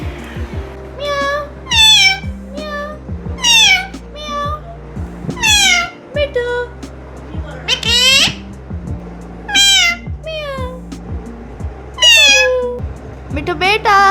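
A male parrot imitates a cat's meow, with repeated loud, close meow-like calls at an irregular rhythm over a constant low hum and rattling, alone without talk.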